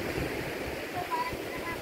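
Steady wash of strong surf rolling onto a beach in Unisan, Quezon, Philippines, a constant roar with some wind noise, no clear voices.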